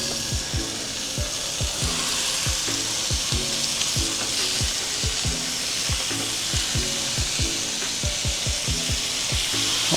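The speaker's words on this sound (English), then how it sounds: "Now we're gonna take this fish over here to this hot pan." Sheepshead fish fillets fry in a hot pan with a steady, close sizzle and rapid crackling pops running throughout, with no talking.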